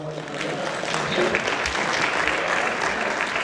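Audience at a community safety-driving event applauding a guest, a steady wash of clapping from many hands with some faint murmuring underneath.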